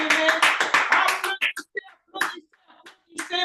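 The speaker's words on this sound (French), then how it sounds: "Applaudissez pour le Seigneur." A worship congregation claps together in a fast, rhythmic burst that stops abruptly after about a second and a half. Scattered voices and singing follow in the quieter gaps.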